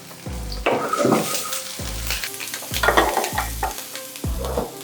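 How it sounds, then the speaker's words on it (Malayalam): Mustard seeds, cumin, green chilli, garlic and curry leaves fry in hot ghee with a steady crackling sizzle, broken by about five rhythmic stirring scrapes of a spoon against the pan, close and fairly loud, with no talking. "അതോടൊപ്പം പച്ചമുളകും രണ്ടല്ലി വെളുത്തുള്ളി പച്ചമുളകും കറിവേപ്പിലയും കൂടി ഇട്ട് കൊടുക്കാം"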